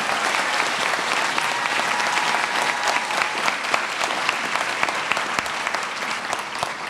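An audience claps steadily for the 2019 graduating class of the LBJ School of Public Affairs at their graduation ceremony. The applause is dense and sustained throughout, with no speech over it.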